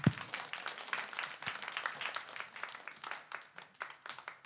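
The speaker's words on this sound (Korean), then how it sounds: "그래도 우리 지율이 박수하시길 바랍니다" A church congregation clapping steadily, a dense patter of hand claps at moderate distance with a sharp clap near the start.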